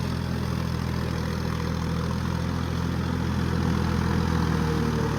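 A John Deere 5050D 4WD GearPro tractor puddles a muddy field, its engine giving a steady, continuous drone with no breaks throughout.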